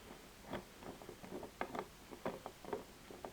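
A Phillips screwdriver backs a cover screw out of a Vespa GTS scooter, making quiet, close ratcheting clicks and small metallic scrapes in an uneven, repeating rhythm, with no talking.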